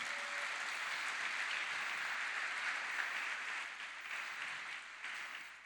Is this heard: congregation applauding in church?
yes